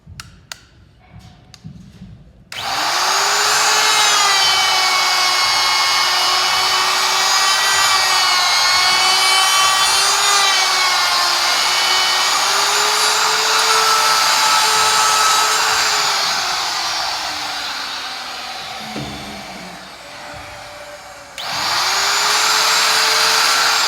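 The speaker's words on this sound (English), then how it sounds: "I'm going to go with the pull of the router for my scoring pass" A wood router cutting a rabbet joint, a loud sustained high-pitched whine with a lower pitch under load. It starts after a few seconds, drops briefly near the end, then spins up again.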